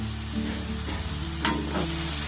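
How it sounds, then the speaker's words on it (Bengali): Grated coconut and jaggery being stirred in a pan over a low gas flame, a steady soft sizzle with a spoon scraping through the mixture and one brief brighter clink near the middle. "কড়ার মধ্যে গুড় আর নারকেল কুড়োটাকে আমি দিয়ে দিয়েছি এবার এটাকে একটু নাড়াচাড়া করে নেব"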